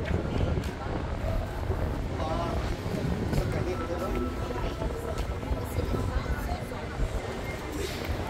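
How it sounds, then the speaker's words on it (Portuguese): A strong cold wind buffets the microphone along a beach avenue in Balneário Camboriú, a loud continuous rumble with a person talking over it. "Olha o vento forte aí."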